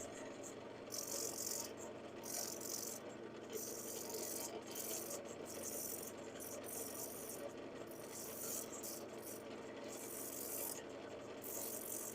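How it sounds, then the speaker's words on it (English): Sanding disc pressed against a turning wood piece on a lathe, a steady close abrasive rasp and rattle with rhythmic flutters as the disc bites, continuous throughout with no talking. "A little bit too much pressure on the sanding disc there."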